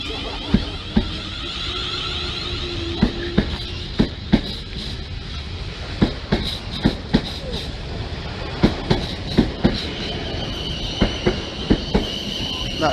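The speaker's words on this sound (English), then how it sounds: "train's about to leave off of platform number 3 at Basingstoke" A Class 444 electric train pulls out of Basingstoke station on its Weymouth to London Waterloo run, with a rhythmic run of sharp wheel clacks over rail joints above a steady motor hum and faint squeal. A voice speaks at times.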